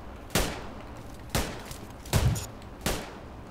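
Four separate loud gunshots in PUBG, evenly spaced roughly a second apart, each a sharp crack ringing briefly before the next, with no voices over them.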